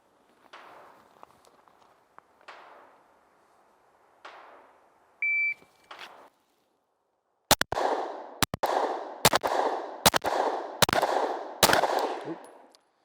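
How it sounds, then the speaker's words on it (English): Shooting drill from the 20-yard line: a beep starts it, then six or so sharp, loud gunshots ring out in a quick, fairly even string, each with a short echoing tail, after a few quieter clicks and handling noises. "Fired one extra round."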